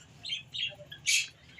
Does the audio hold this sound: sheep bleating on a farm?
no